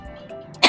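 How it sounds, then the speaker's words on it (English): A person gives a single short, sharp cough at the end of a brief, quiet moment. "I'm coughing, ignore that."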